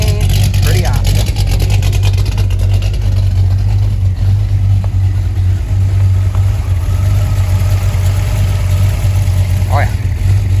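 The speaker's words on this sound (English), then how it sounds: "Love that exhaust, it sounds so good." A loud, deep engine rumble from a 1977 Chevy Camaro idles steadily up close with a burbling exhaust, broken by a couple of short higher squeaks.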